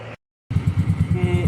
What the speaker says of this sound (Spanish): Aquí podemos verificarlo encendiendo la moto.